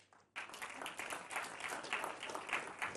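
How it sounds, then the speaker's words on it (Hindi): Audience applause at a political debate event, starting abruptly after a brief hush and continuing as a dense, steady crowd clapping that holds moderately loud to the end. "ताली नहीं बजाएंगे आप लोग?"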